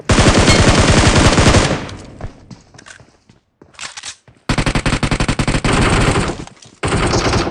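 Gunfire in a shooting video game: loud, rapid automatic bursts, a pause with scattered quieter shots and thuds, then more sustained rattling fire, all close and without talk.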